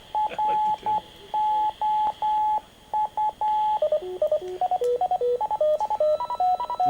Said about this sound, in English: that's the CW ident on the Microfox, and then it goes into plays a little tune